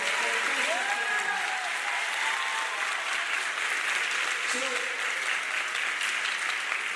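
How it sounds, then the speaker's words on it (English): A graduation crowd applauds in a broad, sustained roar of clapping that holds steady throughout, with a voice briefly heard over it. "let's give a round of applause to every single learning facility, every administrator"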